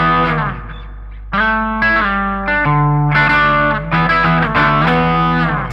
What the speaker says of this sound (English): this very satisfying melody that uses the sliding technique like this